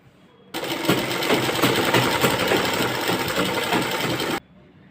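Close, loud whir of a sewing machine stitching a side seam, starting abruptly, running continuously for about four seconds, then stopping, with quiet room tone before and after.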